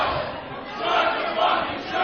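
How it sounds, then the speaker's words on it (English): A large crowd at a live Halloween radio broadcast cheers and shouts continuously, a dense roar of many voices that swells and stays loud throughout. "and you can listen to the crowd."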